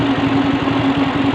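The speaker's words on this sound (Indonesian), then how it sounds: "suara engine-nya kalau diperhatikan dengan seksama ada suara aneh" A Honda Beat fuel-injected scooter that won't start, with a clicking starter and an overheating ECU, idles with a steady, even mechanical chug and a faint odd noise mixed into its running.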